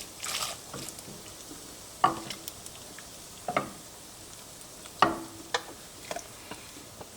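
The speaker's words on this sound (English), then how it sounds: "I'm gonna add my rice noodles to it." Rice noodles go into hot pho broth and get stirred, with soft scattered clinks and knocks of a utensil against the pot over faint liquid sounds, close and quiet, without talk.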